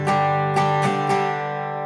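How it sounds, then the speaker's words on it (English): An acoustic guitar strummed in the pattern for a song, four clear strums on ringing chords, each new stroke landing over the previous one's sustain, played alone. "Now our strumming pattern that we're going to put with the progression sounds like this"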